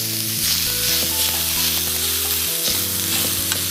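Garlic and vegetables sizzle loudly in a hot pan while being stirred for vegan tofu sausages, a close, steady frying hiss with occasional scraping of the stirring utensil.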